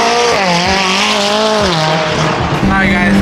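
A high-revving Lamborghini Aventador engine wails loudly, pitch rising and falling, with tires squealing briefly near the end; a voice can be heard faintly underneath.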